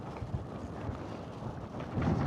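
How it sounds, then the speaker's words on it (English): Strong wind from Storm Floris buffets a Lake District mountain ridge, a steady loud rushing roar with gusty rumble against the microphone that swells near the end, no voices. "the wind is coming from the right direction, so I might get a little bit of respite from it"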